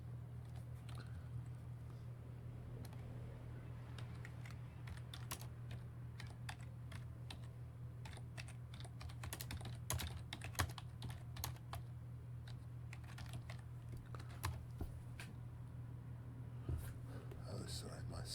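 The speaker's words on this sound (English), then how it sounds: "what a lot of exciting typing" Typing on a computer keyboard during a chess analysis session, irregular quiet key clicks over a low steady hum, with soft speech murmured at points.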